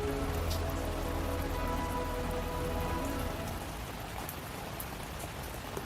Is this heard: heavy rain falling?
yes